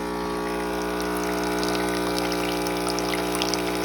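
A De'Longhi Magnifica espresso machine's pump hums steadily while descaling, with a faint trickle of water running beneath it, close and unchanging throughout.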